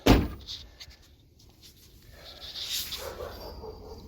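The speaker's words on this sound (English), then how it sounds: "And close some doors." A car door on a 2006 Cadillac SRX thuds shut once, a single close, solid slam at the start followed by quiet shuffling and faint rustling.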